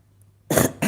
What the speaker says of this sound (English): Sorry, excuse me for the cough.